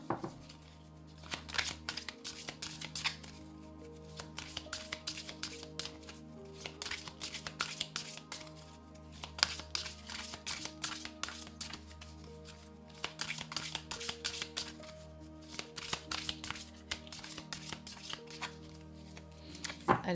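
Tarot cards being shuffled and cut by hand, a steady run of soft papery riffles and flicks lasting about twenty seconds, close and fairly quiet, with brief pauses between bursts.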